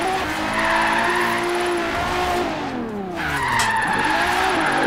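A Regalia car drifts hard in Forza Horizon 3, its engine droning loud and steady while the tires skid and squeal through the slide, the pitch wavering as the revs rise and fall.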